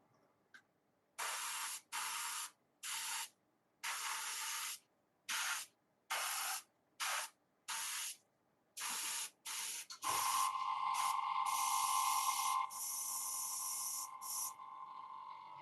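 An airbrush sprays metallic silver paint in about a dozen short, close hissing bursts, then settles into a longer continuous spray before stopping.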